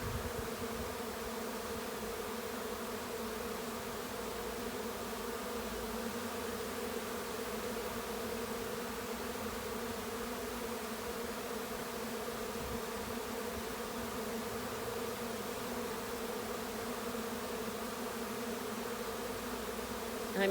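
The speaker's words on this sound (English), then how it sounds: "I'm in the swarm and I can smell the honey, and there are hundreds of bees around me." A honey bee swarm buzzes all around at close range, a dense, steady, loud drone of hundreds of bees holding without a break from start to finish.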